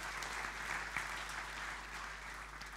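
A church congregation at a Christmas Day service claps together in steady, dense applause that sounds faint and distant throughout.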